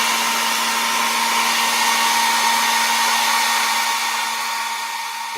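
Hair dryer blowing steadily on a small painted figure, a loud, close, continuous whooshing hum that holds for several seconds before easing slightly at the end.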